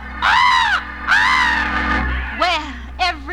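A voice imitates a crow, giving two drawn-out harsh caws followed by two shorter, higher calls, loud and close.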